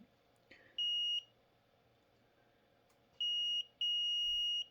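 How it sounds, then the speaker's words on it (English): Arduino buzzer triggered by an ultrasonic distance sensor, giving three sharp, steady high-pitched electronic beeps, one short and two longer, close and clear over a faint background hum. "Buzzer sounding if it reaches 5 millimeters or less."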